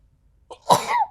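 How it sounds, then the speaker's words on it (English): A single sharp sneeze bursts out after a brief catch of breath, close and loud against silence. "I have to sneeze."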